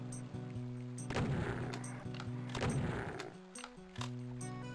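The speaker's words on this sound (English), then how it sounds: "I'll chain gun you." A chaingun fires in Doom II in two quick bursts of rapid shots against a droning in-game music background, with mechanical clicks in between.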